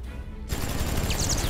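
Rapid bursts of gunfire from the Injustice: Gods Among Us fighting game, a loud dense volley that starts abruptly after a brief quieter lead-in and continues steadily to the end.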